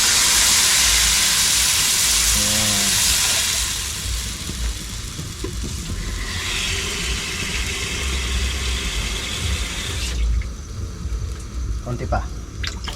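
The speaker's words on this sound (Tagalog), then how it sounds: "Lagyan natin ng tubig." Water is poured into a hot frying pan and sets off a loud, broad steaming hiss that dominates the first few seconds, then settles into a quieter sizzle under voices talking.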